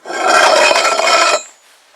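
A harsh, steady grinding whir of a drill biting into metal for over a second, then cutting off abruptly, leaving faint residual hum.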